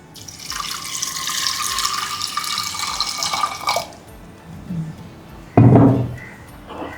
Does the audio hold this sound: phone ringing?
no